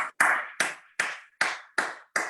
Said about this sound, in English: give a round of applause for our guest tonight from Scotland, Mr. Davey Walker.